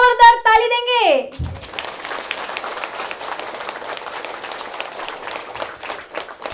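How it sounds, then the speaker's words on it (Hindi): A church congregation claps for Jesus after a voice calls out over the opening; the applause follows as a dense, fairly loud patter of hands that keeps going steadily to the end. "क्या हम यीशु को जोरदार ताली देंगे?"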